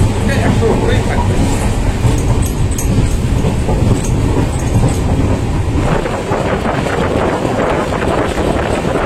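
The 12517 Guwahati Garib Rath Express runs at speed between Kolkata and NJP, a loud continuous roar and rattle of wheels and carriages with wind buffeting, steady throughout.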